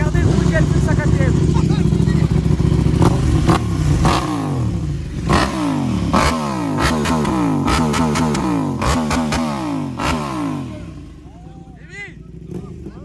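Enduro motorcycle engines at the Enduropale du Touquet beach race revving hard, loud repeated rising and falling throttle sweeps close by, with clatter and other bikes passing, people talking over it.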